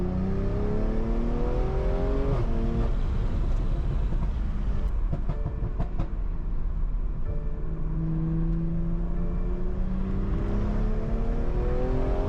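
A Stage 2 tuned BMW M340 making roughly 500 hp sweeps past, its engine note loud and steady, climbing and falling in pitch as it revs by, with no talking.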